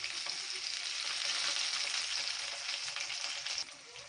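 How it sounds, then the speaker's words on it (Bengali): Mutton sizzles steadily in hot oil with a dried red chili, a continuous bright frying hiss with faint stirring scrapes that eases slightly near the end. "একটা শুকনো লঙ্কার সাথে আমি কিছু মাটন নিয়ে নিয়েছি, আর সেটাকে আমি এইভাবে গরম করছি।"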